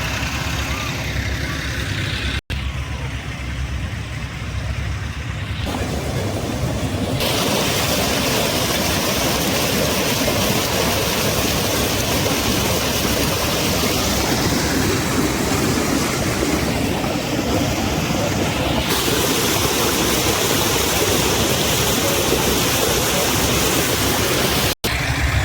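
Engines run steadily at a waterlogged construction site at Amaravati's iconic towers, likely pumps for clearing water. A loud, continuous broadband rumble fills the whole stretch, with brief dropouts near the start and end.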